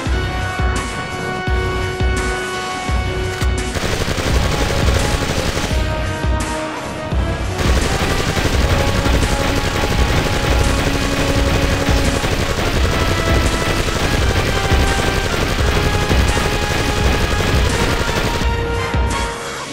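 Sustained rapid gunfire from the video game MDK 2 HD, dense bursts of automatic shots and explosions, loud and continuous with brief pauses.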